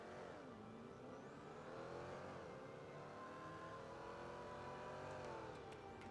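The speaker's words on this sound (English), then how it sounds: "It's a loud fucking car." A loud car engine revs in the video game GTA V, rising and falling in pitch as it whines and roars. The sound is steady and continuous, with no talk over it.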